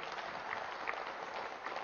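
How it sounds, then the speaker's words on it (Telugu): An audience at a world peace meditation gathering in Tirupati claps steadily, a dense, even wash of applause heard from some distance, short and sustained throughout. "ప్రపంచ శాంతి కోసం జరుగుతున్నటువంటి ధ్యాన మహాయజ్ఞానికి ఒకరు గట్టిగా చప్పట్లు కొట్టుకుంటాం."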